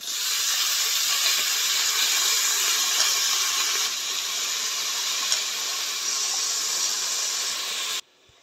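Washed rice and dal drop into hot oil in a pan and set off a loud, steady sizzling hiss. It stays close and even for about eight seconds, then cuts off abruptly.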